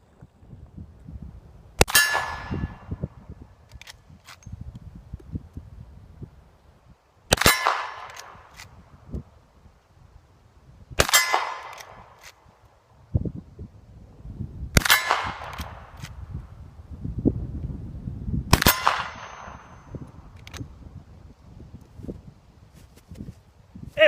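Five ringing metallic clangs, spaced a few seconds apart, as a Rossi 92 lever-action rifle in .357 Magnum hits steel targets at a range; each strike is sharp and bright with a short decaying ring over faint background rustle.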